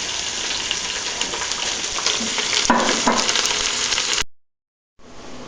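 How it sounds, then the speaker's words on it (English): Asparagus trimmings and onion sauté gently in a pot, a steady broadband sizzle with soft stirring scrapes, continuous and close, then a sudden cut to silence before the frying resumes briefly. "And you saute it just nice and gently and sweat it down a little bit."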